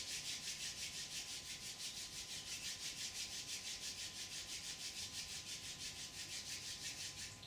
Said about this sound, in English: Bring your palms together and rub the palms.